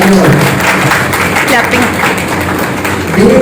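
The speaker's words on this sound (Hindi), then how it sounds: "इनके लिए बहुत सारे तालियां हो" An audience at a Thai cooking master class applauds a presenting group, loud, close clapping under a voice talking over it.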